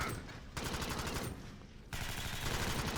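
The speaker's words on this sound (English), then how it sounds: "Just let those gun sounds just go for a minute." Sustained rapid gunfire from the video game Alien Swarm, dense bursts rattling continuously throughout, loud and close with no pauses.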